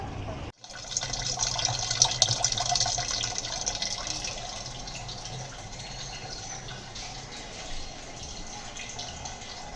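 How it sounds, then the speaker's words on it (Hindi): Water from a supply tap runs steadily into cans, a continuous rushing, splashing flow that starts abruptly after a short silence and keeps a low, slightly weak stream throughout. "पानी भर रहे हैं सप्लाई से"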